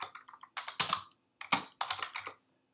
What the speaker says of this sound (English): So now I'm going to type print